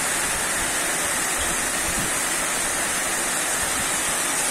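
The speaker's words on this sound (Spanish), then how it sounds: "Y por acá podemos observar el aguacero en todo su esplendor" Heavy rain downpour during a storm in Mexicali, a dense, continuous roaring hiss of water with no letup, loud and close throughout.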